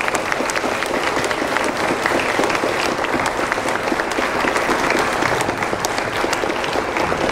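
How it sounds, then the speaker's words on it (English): An audience at a science accessibility conference keynote applauds in a dense, steady burst of clapping that carries through the whole stretch with no break. "I'd like to take a moment to give a round of applause for Temple."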